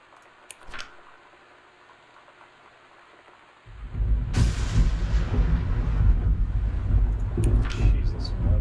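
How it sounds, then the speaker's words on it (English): Thunder crashes in suddenly and loudly in the video game Gone Home, followed by a steady heavy rain that continues with low rumbling after a quiet indoor stretch. "Jeez, that's some loud thunder."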